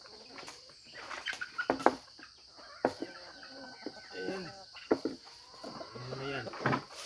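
A mother hen out with her nine chicks on their first day released clucks and chirps in short bursts, close by, while a person talks over the birds.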